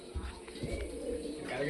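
Pigeons coo softly at close range in a short burst of low, murmuring calls, with faint background noise.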